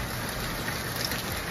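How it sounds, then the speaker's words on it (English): Rain falls outdoors in a dense, steady hiss of drops hitting surfaces, close and unbroken with no voices. "Yo, it's raining."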